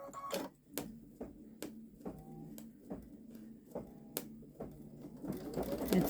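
A Babylock Solaris Vision embroidery machine stitches out a fox-in-a-bottle design on a sweatshirt, a steady mechanical whir broken by sharp regular clacks about twice a second, close and clear with no talk.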